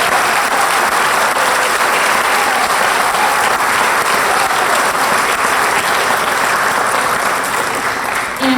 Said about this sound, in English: So please, one more round of applause for all of these students.